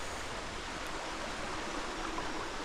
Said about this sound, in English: Got a nice little river.